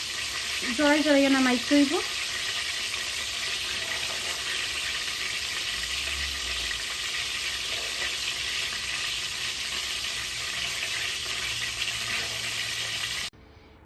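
Onions frying in hot oil in a wok for beresta, a dense steady sizzle that fills the scene throughout, with a brief voice speaking near the start.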